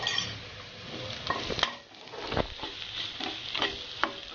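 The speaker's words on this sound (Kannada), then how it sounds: "ಈಗ ಸ್ವಲ್ಪ ಬೆಳ್ಳುಳ್ಳಿಯನ್ನು ಜಜ್ಜಿ ಹಾಕ್ತಾ ಇದ್ದೀನಿ ನಾನು." Crushed garlic going into a hot frying pan while cooking brinjal sabzi, with a steady soft sizzle under scraping and clinking of a spoon stirring against the pan, no talk.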